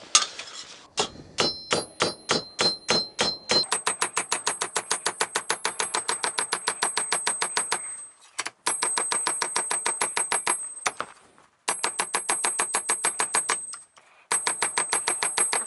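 A cobbler's hammer strikes the edge of a metal lock plate in rapid, even taps, dozens of sharp ringing metallic blows in bursts separated by brief pauses, close and loud.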